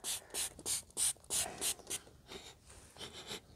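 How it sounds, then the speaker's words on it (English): Cleaner is sprayed onto a K&N cabin air filter in a run of about ten quick, close hissing spritzes in steady rhythm, then softer, lighter sprays, with no talking. "So we are going to nicely spray this on here."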